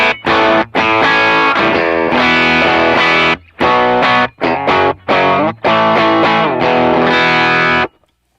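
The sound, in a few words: electric guitar through pedal, mid-range boost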